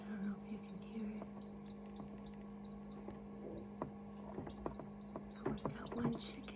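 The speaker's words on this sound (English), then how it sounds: "we heard chirps coming from" A newly hatched chicken chick peeps in a kitchen, giving repeated short high chirps at an irregular pace, faint and near, over a steady low hum.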